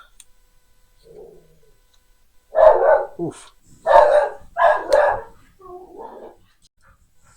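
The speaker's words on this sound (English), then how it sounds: "my dog was going crazy there because the Amazon driver just brought his dog food" A pet dog barks excitedly at a delivery arrival, several loud close yaps and barks in quick clusters with a few softer whimpering yips after, and a brief voice in between.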